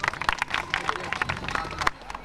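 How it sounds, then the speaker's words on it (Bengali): A group of students at a high school quiz clapping together after a correct answer, a quick, uneven burst of hand claps lasting about two seconds, close and fairly loud with voices mixed in. "সঠিক উত্তর, সবাই হাততালি দাও।"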